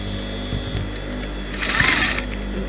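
Sewing machine running a straight stitch through organza ruffles, a steady close mechanical whir with a faint rhythmic needle patter, swelling slightly louder near the end.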